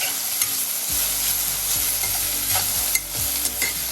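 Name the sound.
coriander leaves sautéing in a pan for thokku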